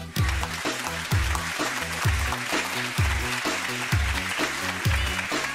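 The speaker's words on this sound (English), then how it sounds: "Let's give our preacher a big round of applause." A church audience applauds the preacher, a steady wash of clapping heard over rhythmic music with a pulsing bass beat throughout.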